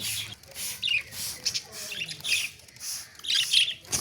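Budgerigars chirp and chatter in bright, scattered bursts while being bathed with sprinkled water, a busy flock of small bird calls with soft splashing noise beneath, no speech.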